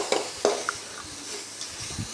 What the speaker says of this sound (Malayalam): നമുക്കിതിലേക്ക് അരപ്പ് ചേർത്ത് കൊടുക്കാം. നന്നായി ഒന്ന് ഇളക്കി കൊടുക്കാം.